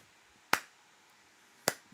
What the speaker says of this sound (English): There's a golf clap coming your way.